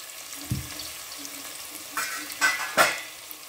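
Onions and potato cubes fry together in a pan with a gentle sizzle, broken by several louder scraping stirs and utensil knocks near the end, close up.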